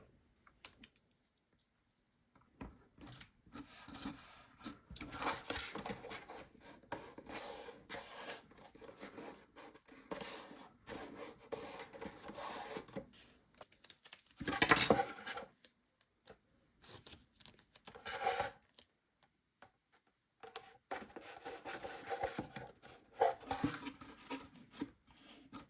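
A knife trims the edges of a cardboard model house, giving quiet scraping and rasping cuts in short bursts separated by pauses, close but faint.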